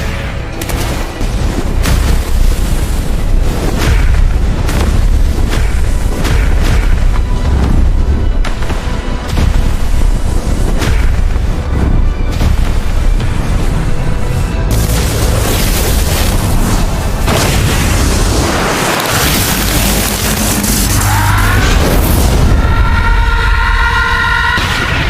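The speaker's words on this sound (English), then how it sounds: "an explosion, not like any explosion. A shockwave tore through the void" An explosion with a tearing shockwave rumbles through an animated fantasy fight, loud, dense booming and crackling that runs continuously throughout, swelling again toward the end.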